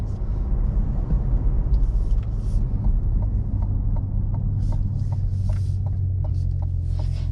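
A Cadillac CT5-V Blackwing sedan accelerates in sport mode with a deep, steady engine drone that stays loud throughout. Light rhythmic ticking and a few faint higher noises sit above the drone.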